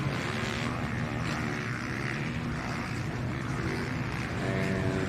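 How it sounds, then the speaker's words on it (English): FPV drone flying over a motocross race, a steady loud buzzing engine drone with a continuous whine and a rough, noisy texture, holding level for several seconds with no speech. "Fox FPV drone right there."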